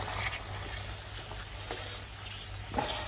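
Chicken and onion frying together in a karahi for a creamy Pakistani white chicken karahi, giving a steady close sizzle with faint crackles and no talking.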